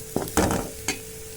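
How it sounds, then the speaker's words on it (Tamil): Eggs cracked into a spiced masala base and stirred in a frying pan, with three distinct scraping knocks of the spoon over a soft, steady sizzle. "இப்போ நம்ம முட்டையை உடச்சி இதில் ஊற்றி நம்ம கிண்ட போகிறோம்."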